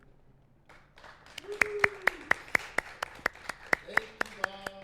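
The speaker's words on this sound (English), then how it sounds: "a warm, virtual White Horse Live round of applause for the man of few words, Dr. Daniel Weiser" A small group gives a round of applause for a speaker at a live concert venue, steady evenly spaced claps ringing out over a sustained tone, with a voice briefly speaking at the start.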